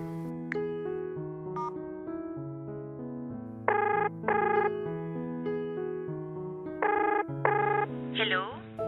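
A telephone rings on an outgoing call, repeated ringback bursts sounding in a steady rhythm over background music, each ring brief and clear.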